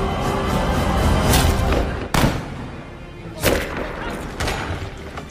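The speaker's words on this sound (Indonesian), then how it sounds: "ternyata tembakan itu berasal dari sniper Red Ghost yang tengah bersembunyi" Several sharp, loud sniper rifle cracks ring out at intervals over a rumbling background in a World War II film scene, each shot trailing a brief echo.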